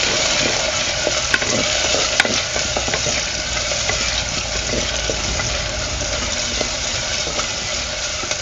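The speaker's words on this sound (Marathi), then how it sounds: "आता आपण ह्यामध्ये घालूया बारीक चिरलेला कांदा" Finely chopped onion sautés in hot oil in a pan for idli sambar, a dense, steady close-up sizzle with occasional stirring clicks and no voices.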